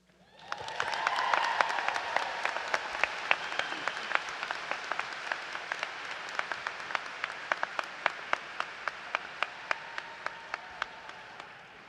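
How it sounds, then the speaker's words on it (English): Applause at a law school commencement ceremony, a large audience clapping steadily for about twelve seconds, building quickly and slowly tapering, with a few distinct claps standing out. "Let's have another round of applause for Karen Kennard."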